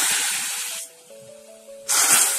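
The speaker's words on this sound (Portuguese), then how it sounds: "a gente vai colocar uns golinhos só d'água" Small sips of water poured onto hot melting sugar for banana caramel sauce, giving a loud, harsh hissing sizzle that drops away to a quiet pause and then bursts back just as fiercely, with no talking.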